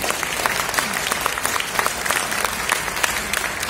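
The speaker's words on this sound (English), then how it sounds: "Can we give Greta a round of applause and welcome?" Steady, dense applause from an audience at a product launch event, a continuous wash of many hands clapping, loud and sustained with no break.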